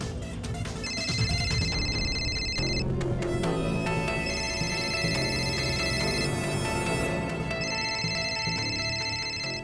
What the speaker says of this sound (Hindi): बॉस का फोन है।